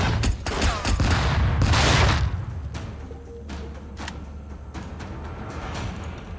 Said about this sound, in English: The explosion will blow this place wide open.